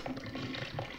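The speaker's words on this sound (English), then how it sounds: "Flush?" A toilet flushing in the video game Resident Evil 7: a steady, fairly loud rush of water that continues evenly throughout, with no voices.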